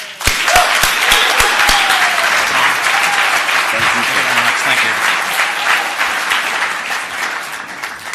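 Warm, sustained applause from a conference audience greets the closing speaker, a spirits company president and CEO, staying loud and even while someone speaks briefly over it.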